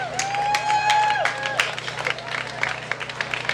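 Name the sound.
applause for community supporters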